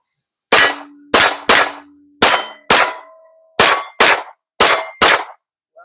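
A Kimber 2k11 pistol fires about ten shots at steel targets, each crack followed by a ringing metallic clang, in an irregular but brisk rhythm outdoors at a range.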